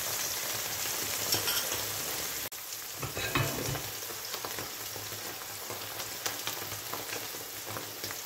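Steady crackling sizzle of homemade village cheese frying in a hot pan, close and continuous, with a brief dip partway through before the sizzling resumes.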